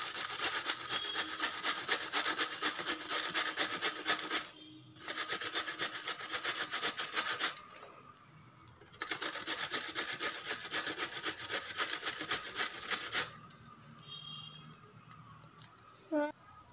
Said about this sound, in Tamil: கேரட் ஸ்லைஸ் பண்ணுற ஸ்லைசரில் வச்சு நம்ம லைட்டாக துருவி எடுத்துடலாம்.